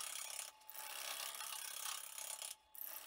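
A wood gouge cuts a carob bowl spinning on a lathe, giving a quiet continuous scraping rasp with brief dips where the tool lifts off.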